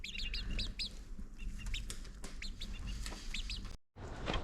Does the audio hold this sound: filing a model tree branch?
no